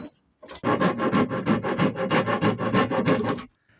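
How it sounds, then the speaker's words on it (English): A Shinto rasp works back and forth across an unevenly cut wooden board during a shed renovation, giving about fifteen close, loud, rhythmic scraping strokes with no talk. "I'm just using Shinto rasp and rasping away"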